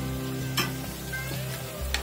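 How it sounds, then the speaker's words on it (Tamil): Tomatoes sauté in a pan with a steady low sizzle throughout, broken by a few soft spatula stirs and scrapes, close and fairly quiet. "வதக்கியாச்சு தக்காளி, வதங்கிடுச்சான்னு பார்க்கலாம்."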